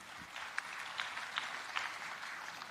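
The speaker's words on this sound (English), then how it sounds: "A round of applause" Audience applause at a tech and innovation summit at KICC, a soft, steady patter of many hands that sounds distant and fairly faint throughout.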